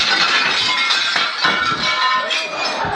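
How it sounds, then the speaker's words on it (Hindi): Glass being smashed during a chaotic arrest by Rangers: loud, close shattering and crunching with tinkling shards over a continuous noisy commotion, with no clear talking. "ये शीशा तोड़ने की क्या जरूरत थी?"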